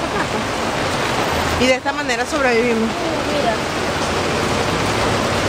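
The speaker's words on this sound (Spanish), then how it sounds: "wow, qué aguacero. Turis, mira cómo llueve" A heavy rain downpour roars as steady broadband noise through the whole stretch, loud and continuous, while people talk and exclaim over it.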